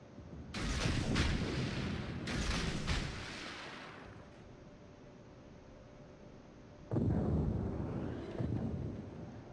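Naval guns firing in a warship video game, several heavy broadband blasts in quick succession, then a lull of low rumble before another loud volley near the end.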